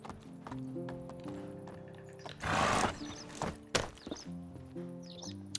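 A horse is ridden slowly in Medieval Dynasty with soft hoof thuds under a light musical backdrop, and a brief louder burst of rustling cuts in midway.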